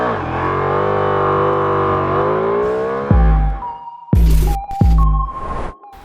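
A Ducati Multistrada V4 with its 1158 cc V4 Granturismo engine pulls hard with a loud, sustained rising engine note, then fires off several sharp throttle blips and revs close by, with no talk.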